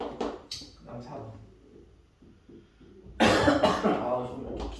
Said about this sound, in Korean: 기침이 안 사라지냐